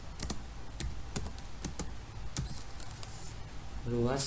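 Code being typed on a computer keyboard during a JavaScript lesson: rapid, close, irregular key clicks with a few sharper taps, and a voice joining near the end.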